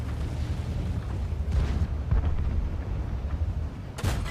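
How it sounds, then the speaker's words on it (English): A T-34 tank's main gun fires in World of Tanks over heavy rumbling engine and battle noise, with booming reports near the start and again at the end. "Take a quick pop shot at the ELC and miss."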